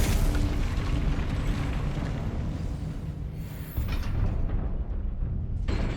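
A Confringo explosion spell goes off in Hogwarts Legacy, a loud booming burst that fades into a rumbling tail over several seconds, followed by a second, shorter blast near the end.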